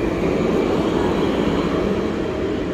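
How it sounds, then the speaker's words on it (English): A light rail train passing along Jaffa Road in Jerusalem, a steady loud rumbling drone with a broad wash of street noise that holds even throughout. "You can see that train goes to the central bus station."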